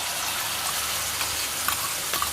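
Tamarind pulp hitting hot oil with fried peanuts in a pan for pulihora made from leftover rice, giving a steady broadband sizzle with a few brief spits and pops.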